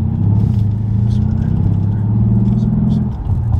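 A Mercedes CLS 63 AMG engine holds a loud, steady, deep rumble under throttle for about three seconds before easing slightly near the end, with faint voices in the background.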